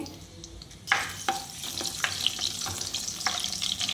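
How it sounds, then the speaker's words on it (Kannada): Green chillies frying in peanut oil sizzle and crackle up close, the sound jumping in loudness as they drop in, then a busy spatter with stirring scrapes. "ಎಣ್ಣೆ ಕಡಲೆಕಾಯಿ ಎಣ್ಣೆ ಇವಾಗ ಮೊದಲಿಗೆ ಹಸಿರು ಮೆಣಸಿನ್ಕಾಯಿ ಹಾಕ್ತಾ ಇದ್ದೀವಿ"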